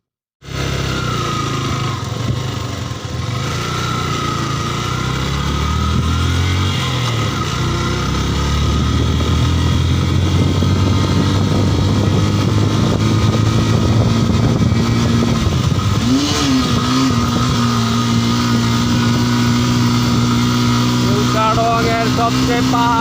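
A group of seven motorbikes climbing a steep hill road, a continuous loud engine drone with rising and shifting pitch as the riders pull uphill, close and sustained throughout.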